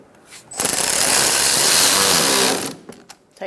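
A power driver tightens screws on the front bumper cover of a 2012–2018 Ford Focus, giving one close, loud, rattling whir lasting about two seconds, with short clicks before and after.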